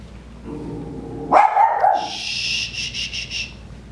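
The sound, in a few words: dogs barking at visitors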